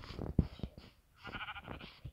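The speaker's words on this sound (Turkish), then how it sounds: "İki tane koyun var." A sheep in the video game Minecraft bleats amid muffled game sounds, with a couple of wavering bleats close by and a thump or two, no speech over it.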